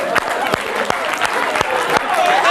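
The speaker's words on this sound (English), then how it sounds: "Give her a round of applause" Scattered clapping from a small audience at a comedy show, a few distinct hand claps standing out over a steady murmur of crowd noise and some background chatter.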